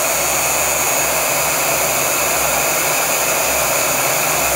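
With heat switched on, an AC unit draws power from a Ryobi 40V 1800W power station, its fan blowing a constant loud rushing drone with a faint low hum beneath, unbroken throughout.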